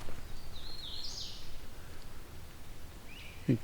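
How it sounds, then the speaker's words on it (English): A hooded warbler sings outdoors along a rural townline road, with one clear, fairly faint phrase of rising and falling notes early on and a short fragment near the end over soft outdoor background noise. "Get closer to the hooded warbler now."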